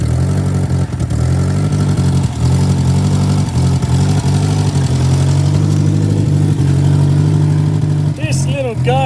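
A 1950s Fawton Ford tow motor runs after decades idle, its small engine holding a steady, close mechanical drone with periodic knocks, and a few brief higher squeaks near the end.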